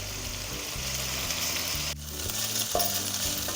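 Prawns frying in a pan with masala, a continuous close sizzle and crackle with occasional stirring, no voices.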